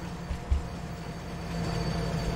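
A train runs in Farming Simulator 19, giving a continuous low rumble with a few heavier thumps early and a faint high squeal, steady and fairly close.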